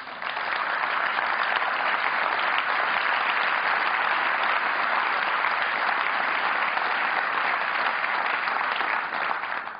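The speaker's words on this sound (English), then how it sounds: "That round of applause is actually for the doctors and nurses of the hospital" An audience at a talk breaks into sustained applause, a loud, dense and even roar of clapping that fills the whole stretch without letting up, with no voices heard.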